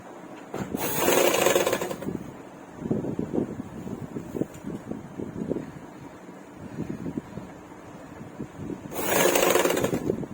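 Electric sewing machine stitching blouse fabric, with bursts of rapid stitching chatter between pauses, close and moderately loud, plus brief whooshing surges at the start and end.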